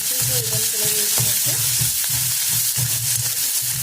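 Two medium onions, roughly chopped, frying in a pan until they turn golden for a traditional vegetable dish, a dense continuous sizzle with rhythmic stirring scrapes close by.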